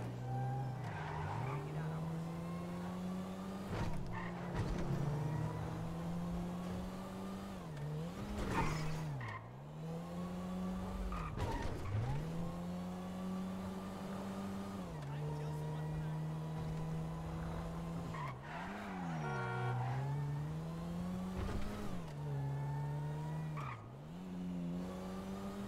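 Fast car in GTA V revving hard with engine pitch repeatedly rising and dropping through gear shifts, loud and continuous with tire squeal, while people chat over it.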